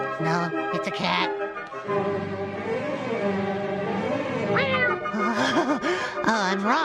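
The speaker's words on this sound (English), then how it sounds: "No, it's a cat." Several cats meow one after another, close by, with long wavering cries and a few shorter calls.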